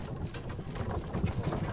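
Horse hooves clip-clop steadily in the Myth of Empires video game, a continuous low rhythmic clatter of a ridden horse at moderate level, with no talk.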